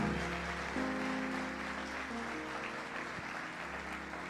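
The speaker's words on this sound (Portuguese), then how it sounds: "pode aplaudir o Senhor" A church congregation claps together in a worship service, a broad, steady wash of applause from a large crowd, held at an even level throughout with a faint tonal hum underneath.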